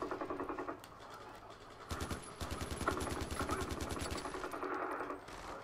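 Rapid automatic gunfire from a Far Cry 4 game battle while defending an outpost, firing at an incoming flying enemy, with loud sustained bursts of mechanical rattling shots interrupted by short pauses.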